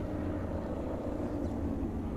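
An airplane flies in the video game Dying Light: The Following, a steady, full low-pitched engine drone that holds evenly throughout, with no voices.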